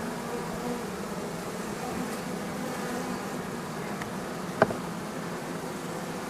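Honey bees buzz steadily around a hive while the beekeeper works, a low, continuous hum that stays even throughout, with one brief sharp knock near the end.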